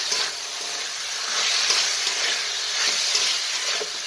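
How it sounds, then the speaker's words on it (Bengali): Chicken sizzling in oil with ginger and garlic, chilli powder and green chillies, being stirred in a pan; a steady close fry with faint scraping throughout and no talk. "আর এটা নাড়াচাড়া করতে করতে চিকেনটাও সেদ্ধ হয়ে গেল, আদা রসুনও ভাজা হয়ে গেল।"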